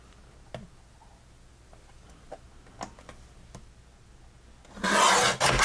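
A paper trimmer cuts a sheet of cardstock: a few scattered soft ticks and taps, then one loud, rasping slice near the end that lasts under a second.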